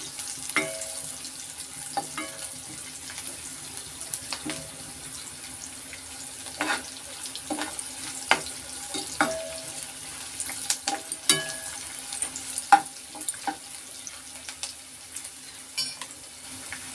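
Onions frying in a pan with a little salt for egg rice, a quiet steady sizzle broken by intermittent sharp clicks and stirring taps, close and faint, with no talking.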